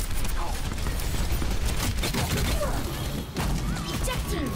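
Rapid automatic gunfire from D.Va's mech weapon in the game Overwatch, a dense continuous stream of shots with clanking mechanical effects, loud and close throughout.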